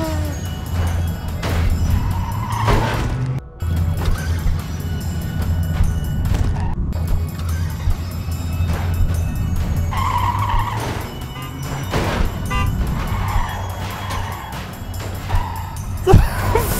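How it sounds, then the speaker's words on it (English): Clustertruck trucks roar, skid and squeal under loud game music, with crashing impacts as a truck drops off the edge, busy and close throughout. "The frick was that? Well, the truck just fell off the edge."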